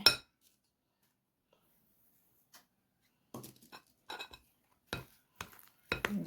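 Palm fruit pitha batter being mixed in a bowl, heard as short irregular clinks and scrapes of a utensil against the bowl in quiet bursts separated by near silence; no voices.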